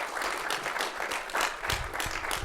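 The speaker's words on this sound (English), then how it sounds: "So can we give them a round of applause?" Audience applause at a university business technology symposium, a moderate crowd clapping steadily and fairly close for a couple of seconds, with no voices over it.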